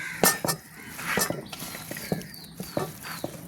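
A metal spoon clinks and scrapes against a pot while beef and tapioca with roasted coriander and chilli powder are mixed and moved into a pressure cooker, giving about ten sharp, close, irregular knocks.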